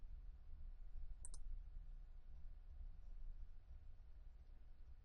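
A computer mouse gives a quick double click, sharp and close, standing out once against a steady low hum of room noise.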